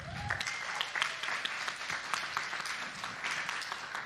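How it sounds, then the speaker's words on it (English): Applause from an audience at a union bargaining gathering, a dense crowd of clapping hands that swells in at the start and carries on evenly at a moderate distance. "That's very generous of y'all to applaud for them"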